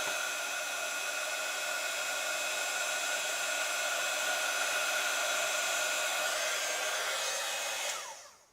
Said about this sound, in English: I'm going to heat that with my heat gun